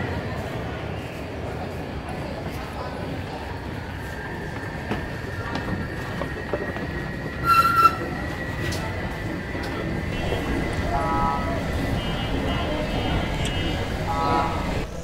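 A subway train runs through a station in Shenzhen, China, with a steady rumbling rail roar, wheel squeal and a rising whine. Chimes and voices sound faintly over the noise.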